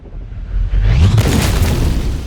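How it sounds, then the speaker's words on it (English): A hand grenade thrown at an armored limousine detonates in one loud, close blast that swells into a broad roaring rumble and slowly fades, with no voices present. "so the attackers throw a hand grenade."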